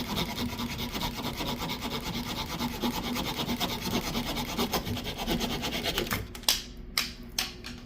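A Leatherman Arc multitool saw cutting through a collagen chew held in a vise, a steady rasping back-and-forth stroke for several seconds, then a few separate scrapes near the end.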